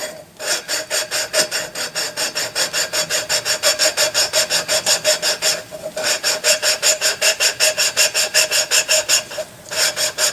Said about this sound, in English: You hear that compound get quiet. The abrasive particles actually break down.